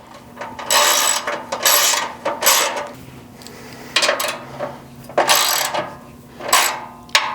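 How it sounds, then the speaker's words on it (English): A 13mm socket wrench ratchets bolts tight on an embroidery machine stand, producing close, crisp clicking bursts in a quick back-and-forth rhythm with brief pauses, loud and free of talk. "then we'll go ahead and tighten them down with a 13mm socket wrench"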